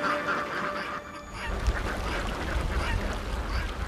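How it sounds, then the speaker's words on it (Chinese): A flock of sea ducks forages on mangrove mudflats, honking and quacking in a busy, overlapping chorus at moderate distance with no speech. "海鸭跨越蜿蜒的水道，在滩涂觅食嬉戏。"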